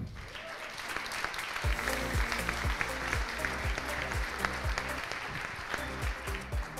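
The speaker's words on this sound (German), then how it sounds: "Einen großen Applaus bitte für Uli Suffner." An audience applauds a speaker at an evening innovation event on a campus, a steady bed of clapping heard from a distance while a low rhythmic thump pulses underneath.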